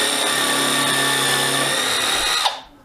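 A drill countersinks a screw hole in a decking board for a trough planter, giving a continuous loud, close whine with a steady tone that cuts off sharply near the end. No one speaks.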